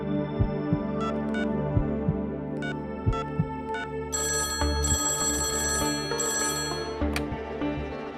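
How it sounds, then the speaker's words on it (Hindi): An old-style telephone bell rings in a scene of the Hindi TV drama Ye Unn Dino Ki Baat Hai, repeated trilling rings over a steady musical background, fairly close and clear with no voices. "किसका फोन है? समीर बाबा के लिए फोन है।"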